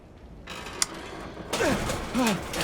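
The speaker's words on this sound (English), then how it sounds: "that you've regained control of adult Blake, you need to mash to get this helicopter door off you." A creaking, scraping mechanical strain as a helicopter door is pushed off the player character in Outlast 2, with a sharp click and then groaning effortful voice sounds over heavy metal grinding.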